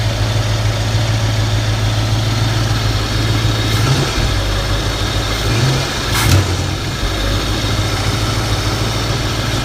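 A 1965 Ford Mustang engine sits on a steady high idle after a cold start, its loud, even rumble running throughout with slightly noisy rockers and a couple of brief clunks near the middle.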